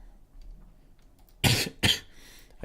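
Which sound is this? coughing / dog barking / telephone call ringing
coughing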